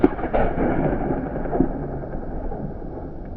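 A single loud boom from a musket or cannon fired during a historical military drill demonstration at a memorial park, opening sharply and then rolling off into a long, decaying rumble with no talk.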